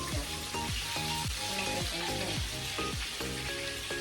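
Chicken frying in hot oil for a biryani produces a loud, unbroken sizzle close by, with repeated falling tonal notes running beneath it.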